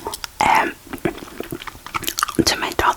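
Hubba Bubba bubble gum chewed close to a microphone, with moist smacking and crackly bursts in an irregular rhythm and a few brief gaps.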